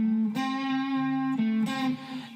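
An electric guitar plays a blues lick with no slides between the notes. A few sustained, distorted notes step from one to the next, close and clear, with no voice.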